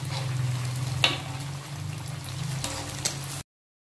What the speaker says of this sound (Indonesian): Bakwan yang kita goreng kita balik sekarang.